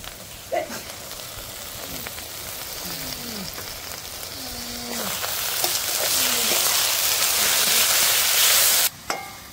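Pork sizzles loudly in a pan with garlic paste and green chili paste, a steady hiss that grows denser and louder midway before briefly dropping out near the end.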